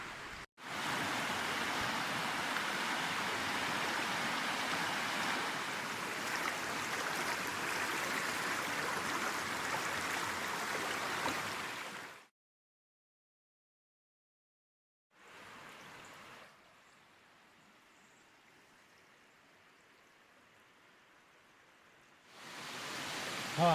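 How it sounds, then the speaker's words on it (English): River water rushing steadily past a riverside campsite near Wilhelmina Falls in Murrundindi, Victoria, a loud continuous broadband roar that cuts out abruptly, then returns fainter and later loud again. "here's the river"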